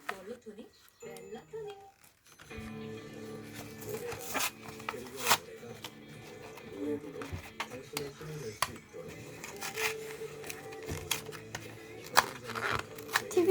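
A plastic package is torn and crinkled open close up, with sharp ripping, rustling and tapping bursts coming through unevenly over about ten seconds as a voice talks.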